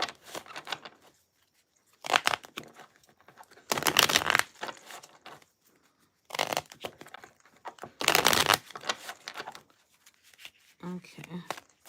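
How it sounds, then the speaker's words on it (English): Playing cards are shuffled in several separate bursts of riffling and flapping, close and clear, with quiet gaps between them and brief talk toward the end. "I want to shuffle some more."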